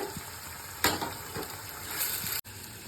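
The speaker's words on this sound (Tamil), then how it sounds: "அதுவும் பச்சை மிளகாவும் போட்டுக்கலாம். கூடவே தக்காளியும் போட்டுக்கலாம். இது நல்லா வதங்கட்டுங்க." Garlic, green chilli and tomato fry in a pan with a steady, soft sizzle and faint bubbling, broken by a couple of brief clatters and a sudden cut near the end.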